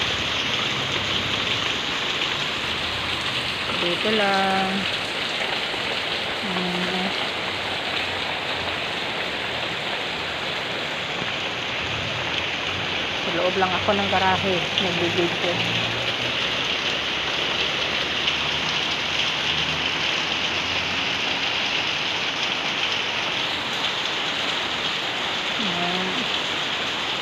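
Heavy rain from a storm pours steadily, a dense continuous hiss on surfaces nearby, with a person speaking briefly over it a few times.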